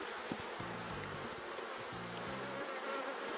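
Honeybees buzz steadily and close at open beehives during a hive inspection, a dense continuous drone with a few individual bees passing nearby.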